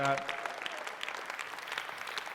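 Live audience at a comedy maths show applauding, a brief patter of clapping from a crowd at moderate distance, with a voice briefly heard at the start.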